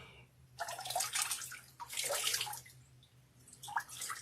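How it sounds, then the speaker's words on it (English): Cold tap water runs and splashes as skin is rinsed in a bathroom, coming in uneven surges and spatters against a low background hum, fairly faint. "After I've done a warm rinse, I am now doing a cold rinse."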